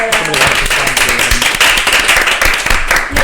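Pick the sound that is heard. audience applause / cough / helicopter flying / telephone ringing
audience applause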